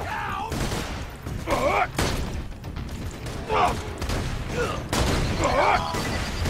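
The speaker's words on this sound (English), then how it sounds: "So many explosions." Rapid gunfire and booming blasts go off in irregular bursts amid a noisy, chaotic battle soundscape in the video game Borderlands 2, with a voice speaking briefly in between.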